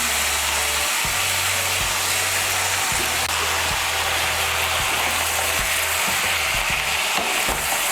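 Vegetables of flat beans, potato and eggplant frying in a pan as bottle gourd greens go in, a loud, steady sizzle filling the whole clip with faint stirring knocks.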